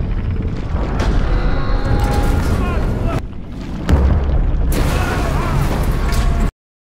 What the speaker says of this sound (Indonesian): Sebuah ledakan terjadi di ruangan torpedo yang memicu kebakaran